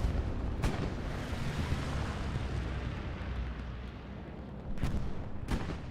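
A rocket strike in the World War II shooter Hell Let Loose: a sustained roaring rumble runs throughout, with sharp explosive bursts near the start and two more close to the end, at a steady, fairly loud level.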